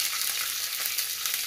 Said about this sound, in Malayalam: ഒന്ന് ഇളക്കി കൊടുക്കുക. തീ ഓഫ് ചെയ്തതിന് ശേഷം ഒന്ന് ഇളക്കി കൊടുക്കുക.